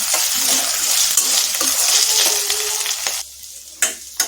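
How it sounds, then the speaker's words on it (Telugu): Okra and potato sizzle in a steel pan while a utensil stirs them, a dense frying hiss with scraping strokes that thins out near the end, leaving a few sharp clinks against the pan. "ఇలా కలుపుతూ కాసేపు ఫ్రై అయితే చేసుకోండి"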